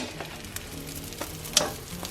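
Bread toasting in a frying pan: a steady, close sizzle with occasional crackles and pops, alone without voices.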